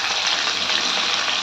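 Onions and green chillies fry in hot oil in a pan for fish curry, giving a steady, dense sizzle that stays loud and even throughout, with no voices.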